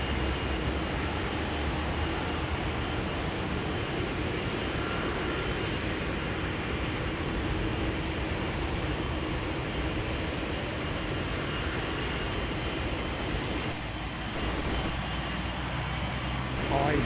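A Boeing 777 airliner with GE engines at Heathrow produces a broad, steady jet engine roar that holds loud and constant, dipping briefly near the end, with faint voices at times.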